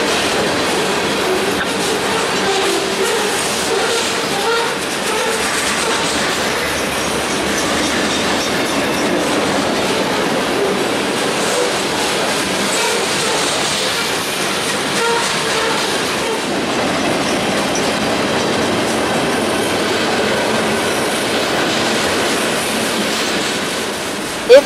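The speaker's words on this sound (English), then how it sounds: "there comes another train from the other direction, north and south. This one's the northbound." A northbound train in West Virginia or Kentucky runs past on the rails with a steady, heavy rumble and clickety-clack of wheels over the joints, loud and sustained throughout, with no one speaking.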